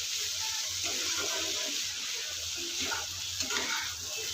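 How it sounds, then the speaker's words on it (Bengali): Shrimp and banana-stem (thor) mixture fries in oil with no water added, a steady close sizzle and hiss running throughout, with soft scraping as it is stirred in the pan. "এখানে আমি কোনো পানি দেব না, তেলের উপর দিয়ে ভাজা করে নেব"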